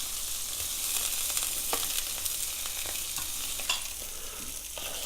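Italian sausage with peppers and onions fries in olive oil in a pan, giving a dense, steady sizzling hiss with a few faint clicks and scrapes from stirring, close and continuous.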